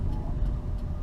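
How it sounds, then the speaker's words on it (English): Steady low rumble of tyre and road noise inside a moving 2003 Honda Accord EX-L, a continuous muffled drone with no voices. "It's mostly just road noise. It's not wind noise."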